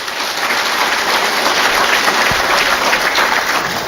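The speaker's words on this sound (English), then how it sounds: "May I call for another round of applause for him," Audience at the annual Nigerian Army conference applauds loudly and steadily, a dense wash of claps that sounds almost like heavy rain, with no voices over it.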